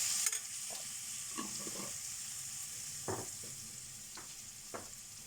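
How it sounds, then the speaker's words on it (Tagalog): Minced garlic frying in a pan, a soft steady sizzle under a few faint scrapes and clicks of a utensil, quiet and close with no speech. "malapit na matutong ang aking bawang kasi iniwan ko"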